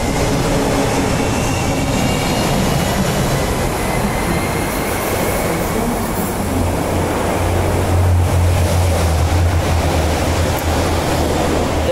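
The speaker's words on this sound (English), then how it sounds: "Sets 105 and 94 departing for Perth." Two Mandurah Line electric train sets departing a station for Perth, a loud steady rumble of wheels on rails with a rising low hum and faint squeal as the cars roll past at close range.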